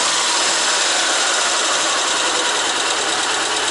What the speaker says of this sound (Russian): Пока я вот открыл ворота все, и мотор стоит, колотится, жду, пока все выгорит.